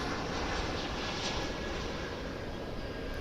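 A fixed-wing airplane banks through a turn near DFW International Airport, its engines a steady, fairly distant roar that holds constant with no talk.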